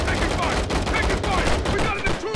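Rapid SMG gunfire in the mobile game Gangstar New Orleans, a dense burst of quick crackling shots in fast succession, loud and close throughout.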